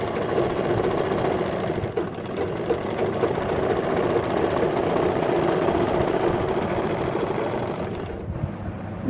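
Sewing machine running steadily as it stitches an old sari into a nighty, a close, continuous mechanical whir with a brief dip and a small click near the end.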